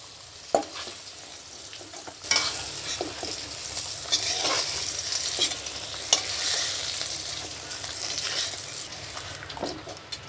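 Eggplant pieces frying in mustard oil, a steady sizzle with repeated spatula stirring strokes and occasional sharper scrapes against the pan.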